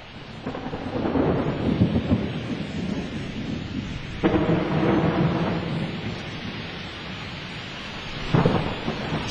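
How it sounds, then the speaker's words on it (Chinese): An afternoon tropical thunderstorm in Kuala Lumpur, recorded in the field: heavy rain pours continuously while loud rolls of thunder swell and crack several times, with no voices. "在3月4号到3月13号之间的某一个下午，我录下了接下来这段的雷雨声。"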